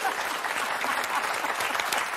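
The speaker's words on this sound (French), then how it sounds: "À 150 applaudissements pour Maryse et Odile." Studio audience applause on a French television word game show, a dense steady wash of clapping that stays loud and even throughout with no voices over it.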